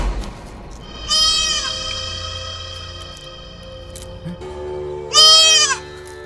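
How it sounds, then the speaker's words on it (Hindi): A goat bleats loudly twice, close by, each call about half a second long and a few seconds apart, over a low steady background hum in a Bhojpuri movie scene. "ये बकरी बन गई है"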